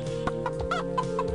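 Chicken clucking from the video game Heretic: a quick series of short clucks over a steady synthesized game music drone, loud and close, with no talking.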